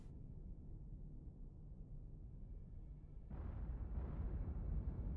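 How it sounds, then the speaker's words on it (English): Underwater depth charge explosions in the submarine game Cold Waters, heard as a low muffled rumble that swells abruptly into a louder, deeper boom partway through and stays heavy to the end. "Depth charges!"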